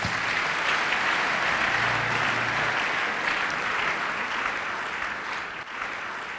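A church congregation at a Sunday service breaks into sustained, dense applause, a steady wash of many hands clapping that holds for several seconds before slowly tapering, full and moderately loud.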